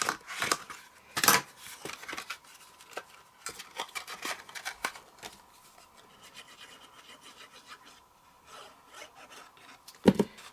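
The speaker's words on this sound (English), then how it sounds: "Grab a bone folder and stick it down." Paper flaps of a handmade craft piece pressed down with a bone folder: short scraping rubs in irregular strokes, close and fairly soft, with a few louder swipes.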